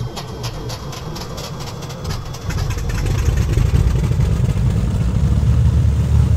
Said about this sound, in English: you can see that the camera is shaking here a little bit as the engine started up